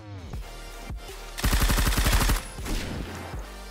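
Suppressed Groza carbine firing in Phantom Forces: a rapid automatic burst of about a dozen evenly spaced muffled shots, loud and close, with a few scattered single shots before and after.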